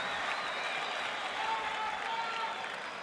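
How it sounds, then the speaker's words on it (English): A large tennis crowd at the 2010 US Open match between Rafael Nadal and Novak Djokovic roars in sustained applause and cheering, a dense, steady wash of clapping that holds loud throughout. "the crowd erupts again at the effort of both these players"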